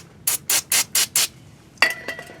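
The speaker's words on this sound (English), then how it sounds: "I have some brake parts cleaner here, and typically all I do is just spray some onto one of these shop rags" Five quick hissing bursts from a can of brake parts cleaner sprayed onto a shop rag, close and evenly spaced, followed by a couple of soft rustling handling sounds.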